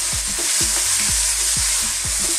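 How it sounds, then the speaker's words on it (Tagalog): Onion and tomato sauté in a frying pan for a Filipino sweet and sour shrimp, with a steady loud sizzle and rhythmic stirring scrapes about twice per second, no voices. "lulutuin lang po natin yung onion at yung ating kamatis"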